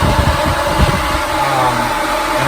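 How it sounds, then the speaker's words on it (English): Auxiliary electric cooling fan on a Thrush aircraft's welded in-cab exhaust setup keeps running after the engine is shut off, a steady whirring hum with broadband airflow noise, close and continuous throughout. "You probably noticed the vehicle is off and the fan's still running."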